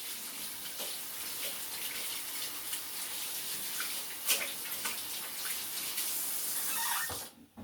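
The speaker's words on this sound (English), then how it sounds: "let me give my hands a fast rinse off here" Kitchen tap running as hands are rinsed under the stream, a steady broadband rush of water with small splashes and drips breaking through, close and moderately loud, cutting off abruptly near the end.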